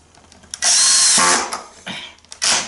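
Power drill driving a screw into wood, two loud close whirring bursts with a shorter one between and a final rising spin, all alone without talk.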